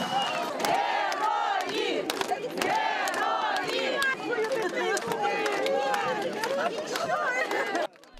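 A crowd in a square in Kherson welcomes soldiers returning from the ATO zone with loud shouts, chanting and cheering, mixed with applause and dense overlapping voices throughout.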